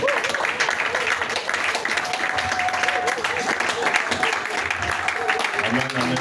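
A church congregation at a French-language praise and worship service applauds and cheers steadily, a dense wash of clapping with voices and shouts mixed in throughout.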